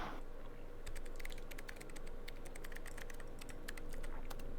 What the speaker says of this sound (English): The room was filled with the sound of clicking keys.